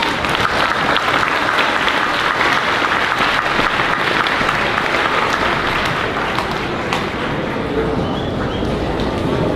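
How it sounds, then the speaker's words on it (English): An audience at a fifth grade moving-up ceremony applauds a class, with dense sustained clapping filling the room from start to finish, loud and continuous, with a dog yapping briefly among the crowd noise. "And let's give Mrs. Ortiz's class another round of applause."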